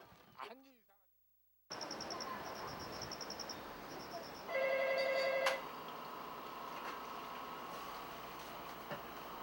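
A telephone rings at a home in Korea with a bright, repeated electronic trill in short bursts, a louder ring near the middle, over a constant background hum after a brief moment of talk.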